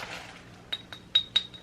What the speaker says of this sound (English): a glass bottle.